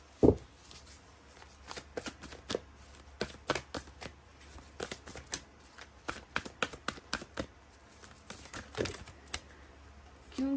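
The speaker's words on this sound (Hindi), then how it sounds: "गिर रहे हैं इतने कार्ड्स हाथों से।" Tarot cards are shuffled by hand, giving a quick, irregular series of close, crisp flicks and slaps with short pauses and no talking.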